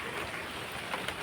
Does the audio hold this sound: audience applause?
no